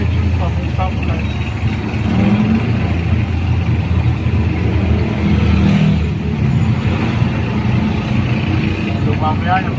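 Road traffic with cars and motorcycles rumbles near a stoplight at an intersection in Antipolo, a steady close engine drone with idling vehicles and people talking over it.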